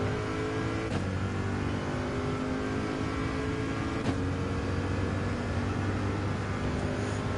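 A GT3 racing car in Gran Turismo 7 accelerates hard, its engine note climbing in loud, sustained revs, with quick gear changes near the first and fourth seconds and no voices.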